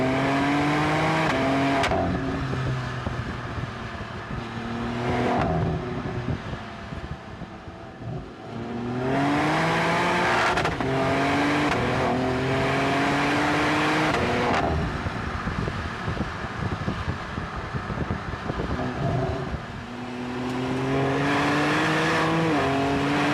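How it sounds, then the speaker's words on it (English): Bovensiepen Zagato BMW M4 with modified intake and exhaust revving hard, its engine note climbing through repeated loud, raspy sweeps with brief lifts between pulls, close and continuous with some wind noise. "it sounds absolutely glorious. It sounds more race car-like than the M4 does typically."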